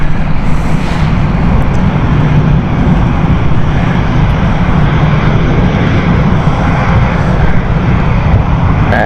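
An EasyJet airliner taking off from Stansted runway 22, a loud, steady jet engine roar that fills the whole stretch, close by and continuous without pause.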